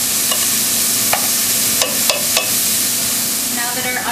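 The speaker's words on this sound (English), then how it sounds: "We're just going to let those saute for about 2 minutes until they're translucent." Garlic and onions sauté in a pot, giving a loud, steady sizzling hiss with a few sharp clicks of a utensil against the pot spread through it. There is no talk.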